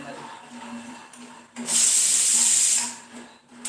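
Steam hisses in one loud burst lasting about a second as a pot of lentils boils, rising above a quieter background hum and softer hissing before and after.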